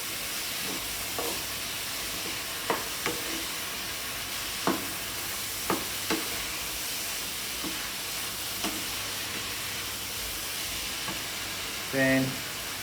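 About four garlic cloves fry in a pan, a steady soft sizzle broken by scattered sharp taps of stirring, ending in a brief louder scrape, with no talking.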